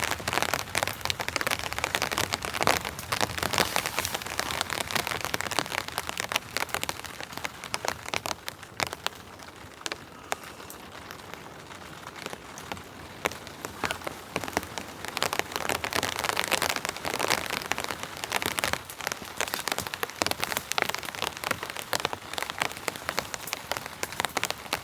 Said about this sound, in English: Nice gentle rain falling, freezing cold, roaring fire